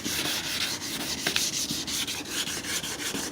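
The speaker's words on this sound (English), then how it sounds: "you're sanding it, keep adding water" A car headlight is wet sanded by hand with 2000 grit sandpaper in rapid, rhythmic back-and-forth rubbing strokes, close and steady, with no talking.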